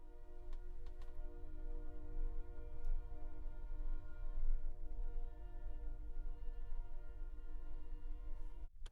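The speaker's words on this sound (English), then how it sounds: "You hear that train?" A train rumbles steadily in the distance with a low, continuous drone and a sustained tonal hum, faint behind the room ambience with no talking.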